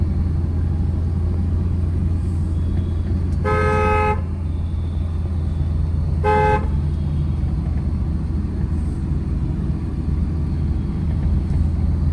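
Two short car horn honks, the first longer than the second, sound over a steady engine rumble in city traffic.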